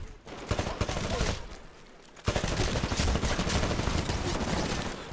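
Smart pistol fire in a video game, sustained rapid volleys of shots crackling almost continuously across the whole stretch, briefly thinning out before resuming at full intensity.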